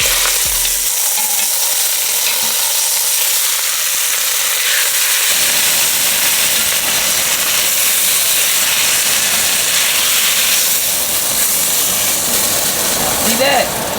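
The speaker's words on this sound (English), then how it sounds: "Now we're gonna add this meat in and sear it for about 3 to 5 minutes on each side." Beef for a ramen soup sears in a hot pan with a loud, dense, continuous sizzle and hiss that swells after a few seconds, ending with a short clatter.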